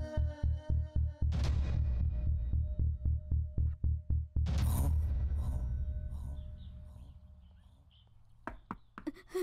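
A series of rapid, evenly spaced knocks on a door, loud and close, followed by a heavier thud and a few scattered taps amid quiet room tone.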